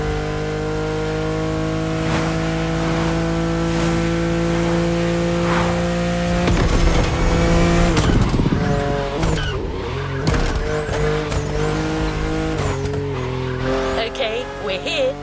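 A Lamborghini sports car's engine roars loud and steady, then rises into sharp revving with tires squealing in the second half, a continuous close, powerful blare.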